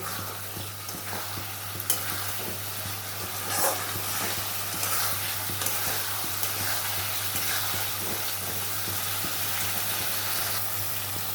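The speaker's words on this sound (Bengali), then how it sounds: "গ্যাসটা বাড়িয়ে দিয়েছি দিয়ে ভালো মতন একটু কষিয়ে নেবো" A curry masala with potatoes for a jackfruit and prawn potato curry is fried and stirred in a pan over a gas stove, giving a steady, close sizzle with scraping stirs throughout and no speech.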